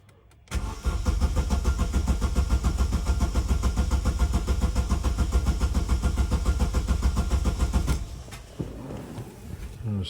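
A car engine cranks and catches, then runs steadily at a loud, close idle for about seven seconds before dropping off; the car has a misfire from bad petrol and fuel is being drained into a pipe.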